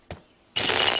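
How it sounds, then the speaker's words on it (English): Geiger counter in a Simpsons nuclear power plant scene: a single short click, then a dense burst of rapid crackling that runs steadily to the end. "That's the sound of the Geiger counter you probably don't want to hear."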